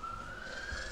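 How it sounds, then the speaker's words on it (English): Ambulance sirens outside a building wail as one steady, gradually rising tone, moderately loud and continuous with a low rumble beneath. "So many, like, ambulances. It's insane. Not as loud as in Germany, but still super loud."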